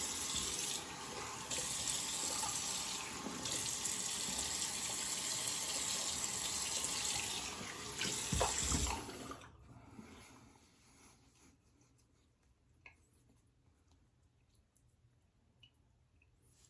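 Tap water runs steadily over a gold adjustable Schick injector razor at a bathroom sink, a loud continuous rinse that cuts off abruptly, leaving only faint drips and quiet room noise.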